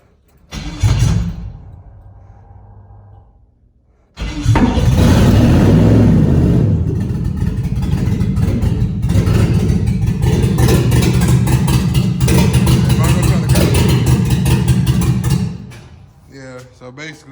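An LS 5.3 V8 swapped into a 1962 Impala with Holley exhaust manifolds cranks briefly, goes quiet, then cranks and fires into a loud, rough, sustained idle that dies after about ten seconds, with a voice speaking over it.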